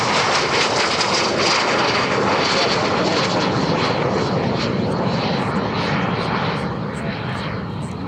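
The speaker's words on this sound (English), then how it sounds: "L29, winds are 328, clear to take off left turn out." An L-29 jet aircraft takes off at EAA AirVenture with a loud, sustained engine roar that stays near and fills the whole stretch, easing slightly toward the end.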